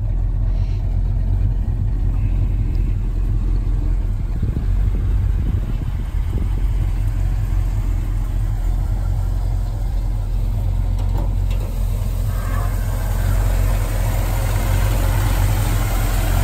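Idling V8-type engine of a 1965 Ford Mustang Fastback, a steady, dense low rumble running without change throughout, heard close and fairly loud with no voices over it.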